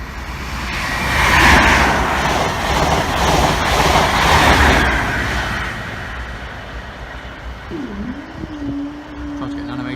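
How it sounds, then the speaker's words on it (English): A ScotRail train pulls into a station, a loud broad rumble of wheels and engine that swells and then eases, ending with a brief rising squeal of brakes as it slows. "Here comes ScotRail."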